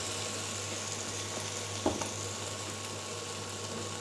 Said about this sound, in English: I'm going to add the zucchini. And push this to the side so they can cook.